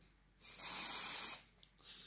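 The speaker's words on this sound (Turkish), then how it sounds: "Kalıcı olması için sprey kullanmamız gerekir." Pastel fixative spray hisses from a can in one sustained burst of about a second, then a short second puff, close and loud over a quiet room.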